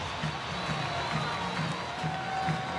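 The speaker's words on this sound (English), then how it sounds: "this crowd is absolutely loving this in the third inning" A baseball stadium crowd at a World Baseball Classic qualifier between Panama and Argentina cheers a home run, a steady wash of distant, sustained roaring and noise.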